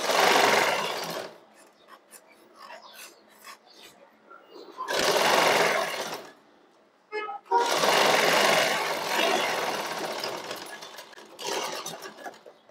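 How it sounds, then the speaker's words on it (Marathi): Sewing machine stitching the shoulder seam of a blouse, running in loud bursts of steady whirring with short pauses between them and a few faint clicks in the gaps. "शिलाई मारायची."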